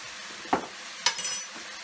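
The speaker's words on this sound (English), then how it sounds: "So give that a quick stir." Minced chicken stirred with red chili powder in a pan: a low sizzle under two sharp scrapes of a spoon against the pan about half a second apart, followed by softer stirring.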